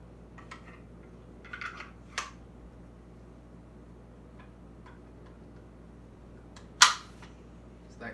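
A handgun being reassembled after cleaning: scattered faint metallic clicks and ticks, then one sharp, close click as a part snaps into place, in a quiet room.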